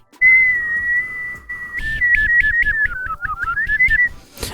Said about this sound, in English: So it's a tongue whistle.